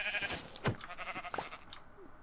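A sheep in the video game Minecraft gives a short, faint bleat, with a few soft clicks and shuffles from the game around it.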